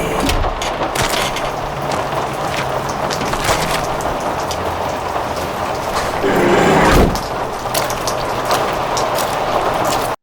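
A van opens during a rainy scene in the video game Hearthbound, with wooden knocks and clattering movement over dense, continuous noise. A louder, heavier rush swells briefly near the end before everything cuts off.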